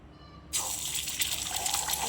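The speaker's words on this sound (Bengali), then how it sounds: "ডিম কেটে নিচ্ছি, তেল গরম হয়ে গেছে, এবার ডিমটাকে তেলের মধ্যে ছেড়ে দেবো।" An egg dropped into hot oil sets off a sudden, steady sizzling hiss that starts abruptly and continues loud and close.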